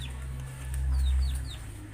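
A seven-year-old mother hen clucks close by with a low, throaty murmur, while faint higher bird chirps sound in the background.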